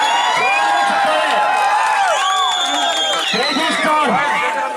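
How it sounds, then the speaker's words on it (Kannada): Crowd cheering and shouting at a clothing shop's grand opening, loud sustained whoops and voices without a break, with no clear clapping standing out. "ಜೋರಾಗಿ ಚಪ್ಪಾಳೆ ಹೊಡಿಗೆ ಅಭಿಮಾನಿಗಳೇ"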